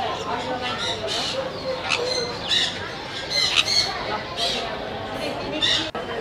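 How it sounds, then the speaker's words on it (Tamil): Parrots caged at the Royal Darwin Show, an agricultural festival in Australia, let out repeated sharp squawks in irregular bursts, near and fairly loud, over a murmur of crowd chatter. "இந்த கூட்டுக்குள்ளே வந்து நிறைய கிளி இனங்கள் வந்து நிற்கிது"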